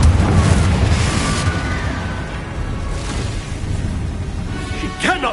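A fire-blasting spell explosion in the video game Hogwarts Legacy, a heavy boom that rolls and fades over several seconds, followed by a short whoosh, with game voices in the mix.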